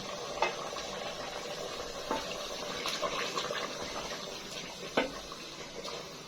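Hands being washed with soap under running tap water in a village kitchen, a steady soft stream of splashing with a few brief louder splashes, fairly quiet and without speech.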